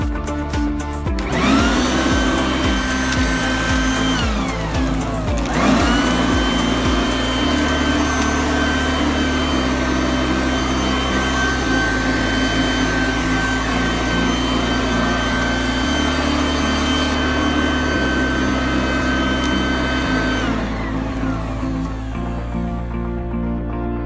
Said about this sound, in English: there is a switch which you can switch the option from blowing to vacuum